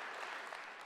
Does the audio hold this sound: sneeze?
no